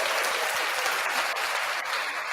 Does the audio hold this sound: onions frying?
no